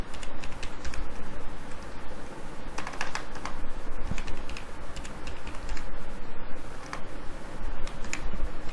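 PHP code is typed on a computer keyboard in quick, uneven bursts of crisp key clicks, close and continuous, with brief pauses between runs of keystrokes and no talking.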